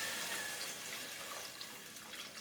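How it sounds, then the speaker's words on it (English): Water runs into a pot of Indian beef curry, a faint, steady stream with a soft splashing wash and no talking. "So now we're adding water."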